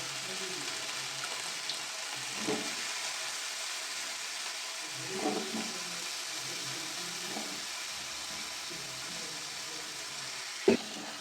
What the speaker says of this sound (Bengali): এবার ফুলকপিটা ভাজা ভাজা করতে দিয়ে দিচ্ছি।